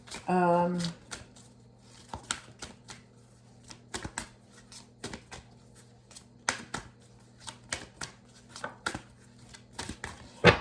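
Repeated crisp riffles of oracle cards being shuffled in short bursts, with brief speech at the start and soft handling noises between shuffles.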